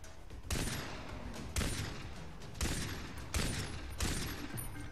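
Gunfire from an inaccurate gun in the Far Cry 3 video game comes in five loud bursts, roughly one per second, each ringing over a constant game background.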